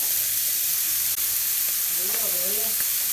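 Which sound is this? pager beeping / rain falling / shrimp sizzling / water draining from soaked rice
shrimp sizzling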